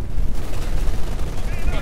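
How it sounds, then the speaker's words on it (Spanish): Machine gun fire in the World War II strategy game Company of Heroes 2, a dense rattle of bursts and battle noise running continuously and loudly throughout, with no clear pauses. "Las ametralladoras."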